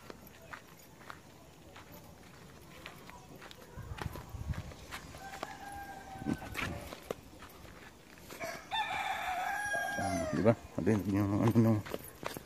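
A rooster crows loudly nearby while people chat outdoors, with scattered rustling and footsteps around.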